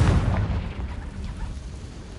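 A Confringo explosive spell blast in Hogwarts Legacy, a deep booming burst at the start that rumbles and slowly fades into a low roar.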